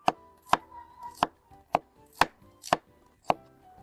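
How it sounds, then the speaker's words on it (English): A knife cuts an onion into strips on a board, seven sharp, evenly spaced chops about half a second apart, close and clear with no voices. "First of all, we're going to cut the onion."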